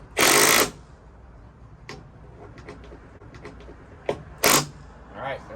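A 20 volt cordless driver runs screws into wood while building a chicken run: two loud, brief whirring bursts up close, separated by scattered clicks and handling knocks.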